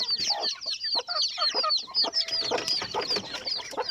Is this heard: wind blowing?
no